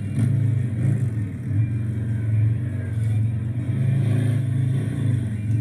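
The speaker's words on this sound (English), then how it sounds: "you've heard throttle, hard drive, just a quick squirt, and then you hear, boom, you hear the motor kind of rev" A replayed recording of a motorcycle on a competition track: a low, steady engine rumble with brief throttle surges and a rev, heard muffled and moderately quiet without talk.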